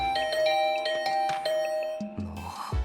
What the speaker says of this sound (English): I started to furiously ring the bell over and over.